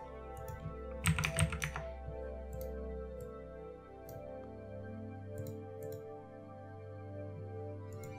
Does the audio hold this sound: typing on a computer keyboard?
yes